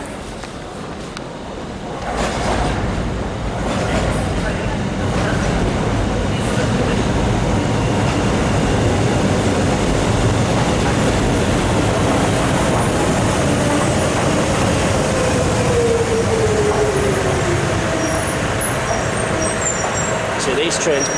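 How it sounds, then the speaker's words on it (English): A Docklands Light Railway train bound for Lewisham, London, running on third-rail power, rumbles steadily and loudly throughout with a broad, continuous wash of rail and wheel noise and a faint rising whine partway through. "So this DLR train's going to Lewisham."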